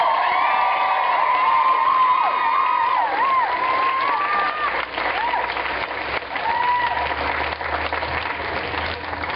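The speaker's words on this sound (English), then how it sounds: "give a round of applause today to the men who are representing" Loud crowd applause and cheering at a rally, a sustained wash of clapping with whoops and shouts rising over it for the whole stretch.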